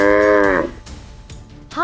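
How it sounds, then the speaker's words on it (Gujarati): A cow moos once, a loud harmonic bellow lasting about half a second that bends downward at the end, followed by quieter rustling and the start of a second rising call. "આ ગાય છે."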